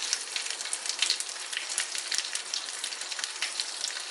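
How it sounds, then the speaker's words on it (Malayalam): Sizzling fried mustard tempering poured into a jackfruit theeyal curry, a steady hissing crackle with scattered pops, fairly faint and continuous throughout, with no voices. "നമുക്കിനി ഇതിൽ കടുക് വറുത്തത് കൂടെ ഒഴിച്ച് കൊടുക്കാം"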